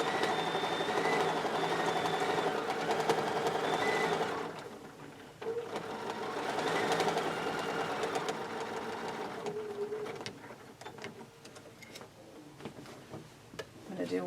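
A sewing machine stitches straight quilting lines across a quilt, humming and ticking steadily at close range, pausing briefly partway before running again, while a person talks over it.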